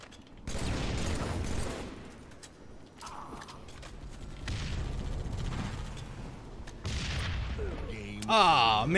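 Rapid bursts of automatic gunfire in the video game Halo 3, loud and dense, with several volleys across the clip, clanking mechanical game effects between them and a rising, warbling tone at the very end.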